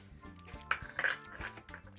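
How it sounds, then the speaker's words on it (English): A spoon stirs a Pornstar Martini cocktail in a glass, giving a few bright clinks and scrapes against the glass over a couple of seconds, close and fairly quiet. "Just need to stir that round a little bit."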